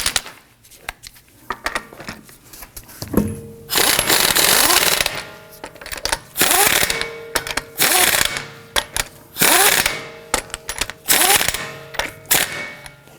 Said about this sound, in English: Now that we have them all started, we're going to snug them down gently.